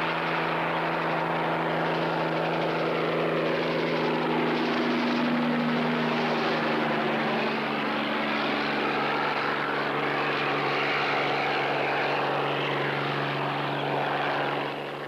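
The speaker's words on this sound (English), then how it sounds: "under these circumstances, helicopter spraying provides the answer" Steady rotor and engine drone of a crop-spraying helicopter passing fairly close, loud and continuous, with pitch shifting slowly as it moves.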